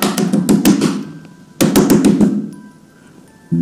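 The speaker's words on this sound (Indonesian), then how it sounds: "ada ketukan keras di jendela" Hard knocking on a window, loud close raps in two quick bursts of several blows each, with a third burst just starting at the end; sharp and alone in a quiet room.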